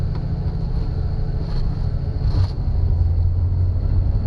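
A 1964 Chevy II Nova engine held on the brakes with the throttle to the floor, a loud, steady low rumble that swells slightly toward the end, with wind buffeting and no talking.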